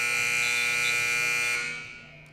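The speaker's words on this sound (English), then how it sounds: "It will start over as the buzzer was not ready." A loud electronic period buzzer at a high school girls' wrestling match between Broken Arrow and Perry blares as one steady harsh tone for about one and a half seconds, then fades into the gym, with no talk.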